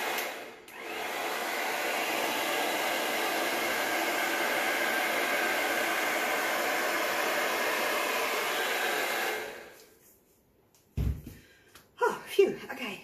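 Steady rush of blown air over freshly poured white paint to spread it into a large bloom, continuous for several seconds, then cutting off before a few short breathy sounds.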